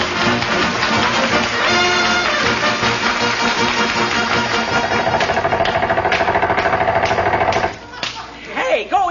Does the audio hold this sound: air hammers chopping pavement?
yes